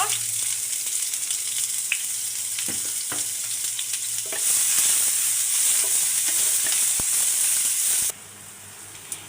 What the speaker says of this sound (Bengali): মরিচগুলো ভাজা হয়ে গেছে, এখন আমি রসুন পেঁয়াজগুলো ভেজে নেব।